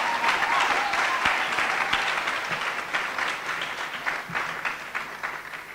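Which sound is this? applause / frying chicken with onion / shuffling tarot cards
applause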